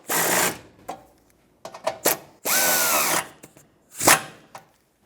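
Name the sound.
power drill tightening bolts on Toyota 4Runner bumper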